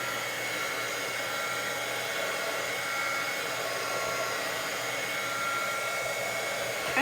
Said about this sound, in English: Let me go with the dryer again.